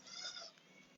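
A street cat in Puerto de Abrigo gives a single faint, drawn-out meow, heard alone at a distance with no talking.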